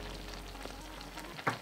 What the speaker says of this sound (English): Now we want to leave this to simmer.